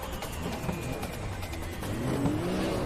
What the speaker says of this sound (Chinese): 在利用每一个直道加大油门追赶